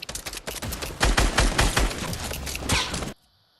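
Rapid bursts of gunfire from the Fortnite video game, dense rattling shots fired in quick succession for about three seconds before cutting off abruptly into quiet.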